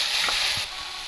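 Mustard and green chilli paste hitting hot oil for a Bengali brinjal and hilsa curry, a bright burst of sizzling that drops to a quieter hiss partway through, with no talking.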